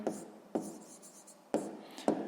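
Pen strokes on paper while a math answer is worked out by hand for a sixth-grade exercise, four distinct scratchy bursts of writing spaced unevenly, close and moderately quiet, no talking.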